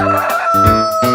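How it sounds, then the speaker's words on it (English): A rooster crows in one loud, close, strained call of about a second with a couple of breaks in its rising and falling cry, heard alone. "Rooster."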